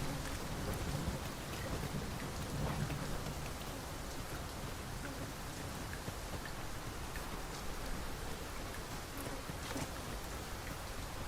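Steady heavy rain pours down in the video game Dragon's Dogma 2, a dense continuous wash of droplets with a faint low rumble underneath, fairly quiet overall and with no talking.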